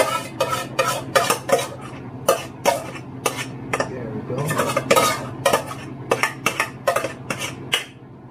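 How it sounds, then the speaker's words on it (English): Pancit canton noodles are tossed and mixed in a pan, with a run of sharp metallic clacks from a utensil striking the pan at an irregular rhythm over a low background hum, close and fairly loud. "Just mix the noodles."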